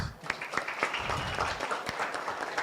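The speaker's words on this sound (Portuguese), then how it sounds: "Palmas para Adiel." Scattered clapping from a modest audience welcomes a guest at an arts education event, fairly faint and uneven with a few sharper individual claps standing out.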